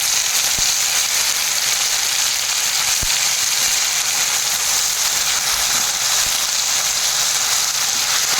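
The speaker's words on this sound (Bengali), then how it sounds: "তেলটা গরম হয়ে গেছে ফোড়নে দিয়ে দেব কালো জিরে এই বেটে রাখা সরিষা আর কাঁচা লঙ্কা দিয়ে দেবো" Nigella seeds, mustard paste and green chillies sizzle in hot oil as a tempering for a hilsa and taro curry, a steady close crackling hiss with a few sharp pops throughout.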